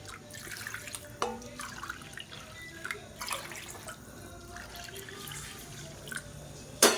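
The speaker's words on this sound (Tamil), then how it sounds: "நாலு கப்பு சூடான தண்ணி சேர்த்துருக்கேன்" Water runs and splashes steadily into a metal cooking pot, four cups of hot water for cooking vermicelli, with occasional clinks and drips, close by and with no talking.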